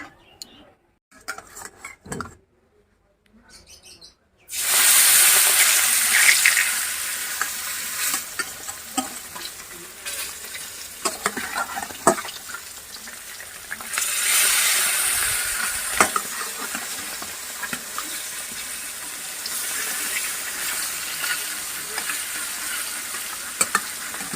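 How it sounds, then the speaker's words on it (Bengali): Prawns and prawn heads frying in plenty of oil, a loud, dense sizzle that bursts in after a few seconds of near silence with faint knocks, then roars steadily with occasional utensil clinks and spattering peaks. "চিংড়ি মাছগুলো দিলাম আর এই মাথাটাকে আগে দিলাম বেশি তেলে মাথাটা ভাজলে বেশ"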